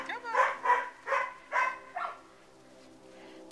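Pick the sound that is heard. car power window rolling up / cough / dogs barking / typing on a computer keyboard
dogs barking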